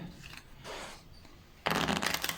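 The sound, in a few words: shuffling a deck of playing cards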